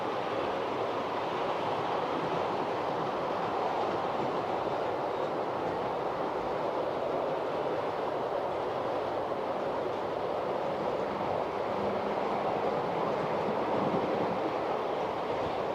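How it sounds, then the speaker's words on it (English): A Hornby Class 66 Freightliner model train runs continuously, a steady, even rolling rumble and whirr that holds for the whole stretch without pause or voices. "The 66 Freightliner, that's the Hornby Railroad."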